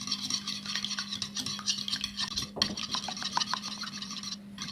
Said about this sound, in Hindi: अच्छा जी, अंडों को फेंट लूँगी